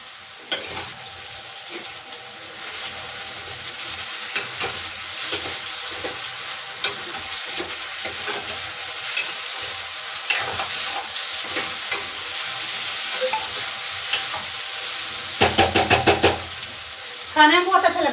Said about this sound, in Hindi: तो ये देखिए हमारा आलू फ्राई हो चुका है।